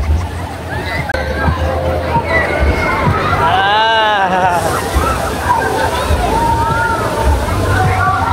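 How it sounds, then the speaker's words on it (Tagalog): Waves roll through a crowded outdoor wave pool in Davao del Norte with continuous sloshing and splashing. A babble of voices and someone talking sit over the water. "Ayan ang waves guys, oh."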